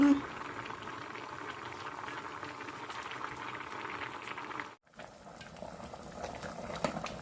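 Beef seaweed soup (miyeokguk) bubbles at a steady boil in a pot, a continuous gurgling, simmering hiss close by, with a brief pause partway through.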